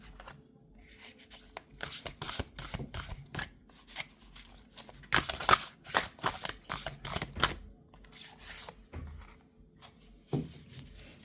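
Tarot cards are shuffled by hand for a card reading, giving quick, crisp riffling and slapping bursts in uneven clusters, close and fairly quiet, with no talk.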